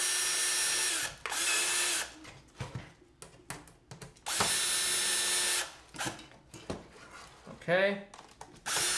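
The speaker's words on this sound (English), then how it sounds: "now we can screw it in" A power drill drives screws into a Falcon Heavy model. Several loud, close whirring bursts are separated by clicks and handling noise, and a voice speaks briefly.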